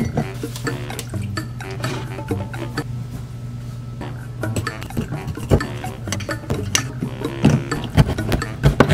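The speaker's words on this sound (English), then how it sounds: "I need Oreos and milk, mash it together" Oreo cookies and milk mashed together in a mug for a microwave mug cake, giving close, irregular scraping and clinking of a utensil against the mug, with no talking.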